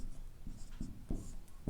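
Chalk or marker taps and strokes on a lecture board as a determinant is written out, a short run of distinct close knocks and scrapes in irregular rhythm.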